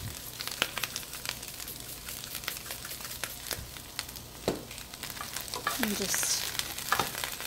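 Vegetables seasoned with garlic salt and red pepper flakes sizzle and crackle steadily in a pan, with occasional stirring clatters and a few brief spoken words.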